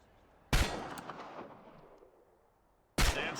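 Two loud, sharp gunshots from target practice in the video game Chernobylite, five bullets for five targets; the first rings out with a long fading echo before the second cracks at the end.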